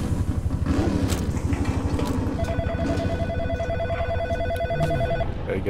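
A phone in the In Sound Mind video game rings with a steady pulsing electronic trill through the back half, moderately loud over a rumbling engine-like drone.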